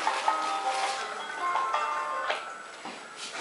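A phone ringtone melody plays faintly in a home kitchen during Easter egg dyeing with food coloring: thin, sustained electronic tones with soft ticking, heard alone without talk.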